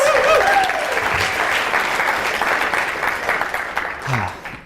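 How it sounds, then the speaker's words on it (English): Conference audience applause rising from a large crowd, steady and loud throughout, with a brief cheer or voice near the start. "let's all give Philip, the biggest round of applause"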